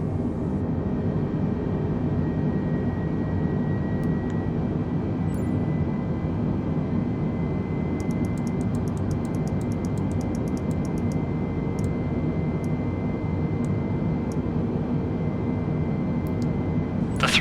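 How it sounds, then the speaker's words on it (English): Jetliner engines in Microsoft Flight Simulator hum as a steady, loud low drone with thrust easing back during descent, with a few faint clicks scattered above it and no talk. "The thrust now comes back and we decelerate, losing energy."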